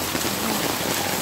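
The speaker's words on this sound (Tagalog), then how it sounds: "Nabutan ako ng lakas ng ulan" Heavy rain pours down over a flooded street with no drainage, a dense, loud, continuous hiss close by with no gaps.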